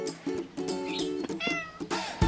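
A cat meows repeatedly at close range, a series of short tonal cries in uneven rhythm with brief gaps between them, loud and clear without any voices over them.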